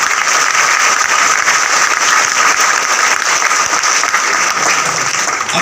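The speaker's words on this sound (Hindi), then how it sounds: "आपकी कमिटमेंट के लिए जबरदस्त तालियां बजाइए।" Loud, dense audience applause in an auditorium at a Modicare business program in Bhubaneswar, sustained and even throughout with no speech over it.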